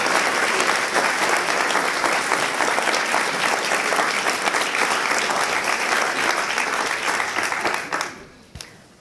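Big, dense applause from an audience at a science slam evening as a performer is welcomed on stage, steady and loud for about eight seconds before breaking off into a few scattered claps.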